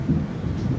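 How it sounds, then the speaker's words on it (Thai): A brief stretch of steady low rumbling thunder during a thunderstorm, loud and broad with no speech. "ฝนฟ้าขนองวันนี้"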